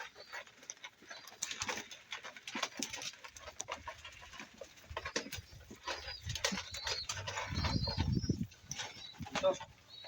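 Pigeons in a loft, soft cooing and rustling wing flaps close by with scattered clicks and shuffling, a lower fluttering burst near the end, and someone talking quietly at times.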